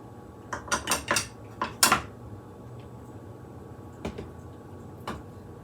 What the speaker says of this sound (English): And a half a cup of sour cream. I'm just going to stir this up a little.